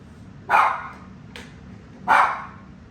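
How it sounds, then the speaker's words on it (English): A dog barks outside the house in two sharp, loud barks about a second and a half apart, with a softer yelp between them and quiet background otherwise. "That's my dog out there."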